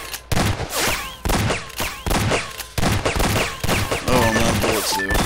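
Rapid bursts of gunfire in a shooter video game, blind-firing from cover, with repeated loud cracks and stuttering volleys close up, followed by some electronic game tones near the end.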